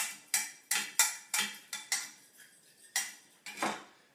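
A fork whisks a collard greens slaw dressing in a bowl, sending out about ten sharp, regular clinks of metal on dish, close and crisp with no talk.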